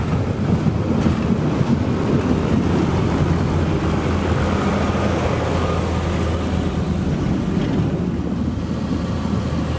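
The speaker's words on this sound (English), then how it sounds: "enjoy the sights and sounds of this lovely engine departing Sheffield Park" Steam locomotive pulling out of Sheffield Park station on the Bluebell Railway, a continuous low rumbling roar heard outdoors with wind buffeting the microphone, steady and fairly loud throughout.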